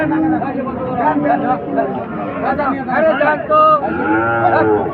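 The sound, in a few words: cattle mooing at a cattle market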